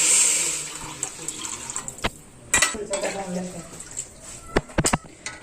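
Water is poured into a pot of rice while chicken biryani is being cooked, splashing and trickling close by, with metallic clinks of pot and utensils.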